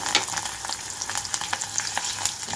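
Hot oil sizzles and crackles steadily as asafoetida and curry leaves are added to a tempering for gongura chutney, with sharp little pops scattered through the hiss, close up and with no one talking.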